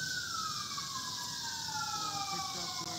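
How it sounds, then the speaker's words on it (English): An emergency siren wails and falls in pitch as the vehicle passes at a distance beside a creek where people are fishing outdoors. It stays faint against steady background noise. "There's that fire ambulance again."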